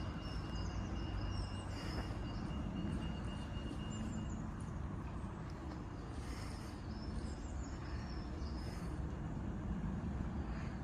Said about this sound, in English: Fast train approaching.